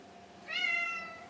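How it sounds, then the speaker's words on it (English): A single short, faint indoor meow from a pet cat, clear and tonal, rising then fading, with no talking over it. "Cat time."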